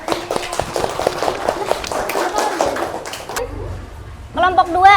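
A classroom of students claps for a group that has just presented, a dense patter of many hands for about three seconds before it fades out, followed by a teacher's voice speaking.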